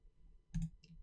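Computer mouse clicks during photo editing work, two or three faint, quick clicks close together, with no talk.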